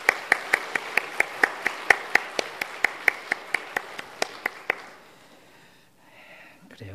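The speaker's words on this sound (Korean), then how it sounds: "우리 찬양을 받아주신 하나님 앞에 영광의 박수 올려드립니다" Church congregation claps in a slow, steady unison rhythm, about twenty sharp claps spaced evenly, then stops, leaving quiet room ambience.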